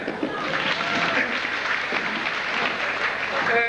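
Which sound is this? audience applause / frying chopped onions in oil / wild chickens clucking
audience applause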